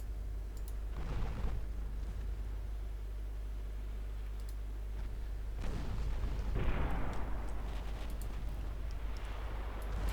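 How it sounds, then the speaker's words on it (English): Naval guns of 7-inch calibre firing in the warship game Ultimate Admiral Dreadnoughts, heard as a few deep booming salvos with rumbling tails over a continuous low engine drone, with no talk. "Start using those 7-inch guns."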